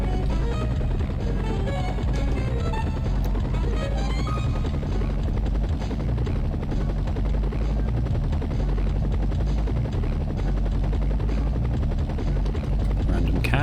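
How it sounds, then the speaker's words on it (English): A helicopter in a 1990s Maxis video game flying a medevac mission, its rotor droning as a continuous loud, even buzz with rapid chopping pulses, steady throughout with no talk over it. "I seem to remember this first helicopter is actually pretty tough."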